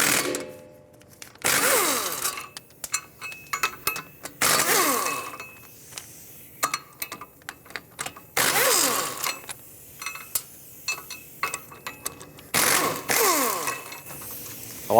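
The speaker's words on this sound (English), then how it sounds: "14mm socket, I'll remove all 4 of these bolts and this should come right out" A socket wrench with a 14mm socket ratchets in repeated quick bursts, clicking sharply up close with short pauses between turns as the rear hub bolts of a 1997-2001 Lexus ES300 are loosened.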